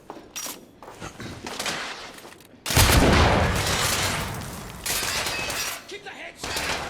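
Suppressing gunfire crackles in The Order 1886, sharp shots and a heavy burst of sustained fire with shattering impacts, loud and close, as voices shout orders in between.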